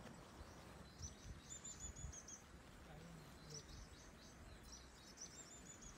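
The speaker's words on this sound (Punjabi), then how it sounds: "ਇਹ ਤੁਸੀਂ ਸੁਣ ਸਕਦੇ ਹੋ ਹੁਣ ਪੰਛੀਆਂ ਦੀ ਆਵਾਜ਼" Birds singing among trees, heard as faint, repeated bright chirps and short trills in scattered bursts over a quiet outdoor background.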